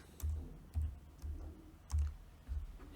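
Keys on a computer keyboard being typed while writing code for a crypto trading bot: five separate soft thumping keystroke bursts spaced roughly half a second apart, fairly close and quiet, with no talking.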